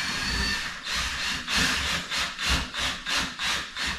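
Pulsing bursts from a power drill boring a pilot hole during a treadmill repair, roughly eight rhythmic whirring pulses, close and fairly loud with no talk.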